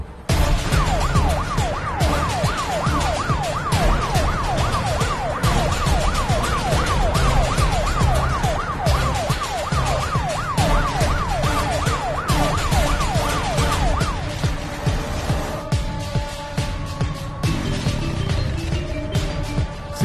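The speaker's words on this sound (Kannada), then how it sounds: "ಸೀನಾ, ಸಾಗರು ಆಂಬ್ಯುಲೆನ್ಸ್ ನಲ್ಲಿ ಮಂದಾರ್ತಿ ರೋಡಲ್ಲಿ ಬರ್ತಾ ಇದ್ದಾನೆ." An ambulance siren wails on a road in a film scene, a loud, continuous, rapidly rising and falling electronic tone over traffic rumble that shifts to a slower pattern toward the end.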